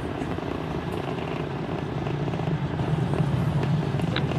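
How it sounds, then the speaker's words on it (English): A SpaceX Falcon 9 rocket carrying a crewed Dragon capsule climbs during ascent, a steady, loud, broadband roar that swells slightly and holds without a break. "Flying crew on board Dragon and Falcon 9 to new heights."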